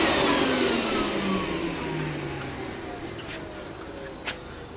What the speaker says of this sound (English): I'm gonna get a vacuum and I am going to suck all this out